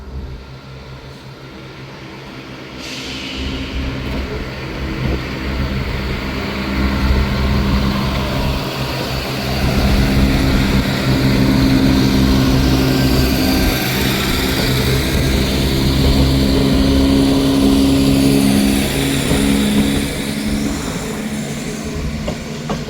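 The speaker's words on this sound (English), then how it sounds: "Departing out now is the 12:15 Scotrail service from starting here at Dundee going to Glasgow Queen Street" A Scotrail service pulls out of Dundee station bound for Glasgow Queen Street, its diesel engine drone and rumbling wheels building to a loud, sustained roar before easing slightly as it moves away.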